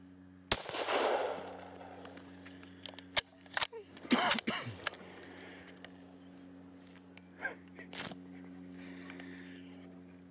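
A rifle fired at a sika stag during a hunt, one sharp loud crack followed by scattered knocks and rustling, with excited voices around it.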